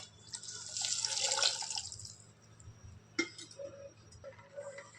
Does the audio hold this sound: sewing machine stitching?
no